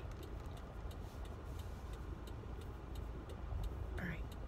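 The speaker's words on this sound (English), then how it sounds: "I'm just sitting at the red light in traffic in San Jose, as usual." Road traffic heard from inside a car stopped at a red light in San Jose, a steady low rumble of idling engines with faint ticking, likely a turn signal, and a brief higher sound near the end.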